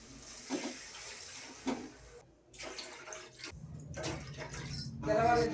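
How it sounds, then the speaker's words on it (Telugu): Water runs and splashes into a cooking pot of basmati rice, four glasses poured, with clatter and brief voices nearby in between. "నాలుగు గ్లాసుల నీళ్లు పోసాను"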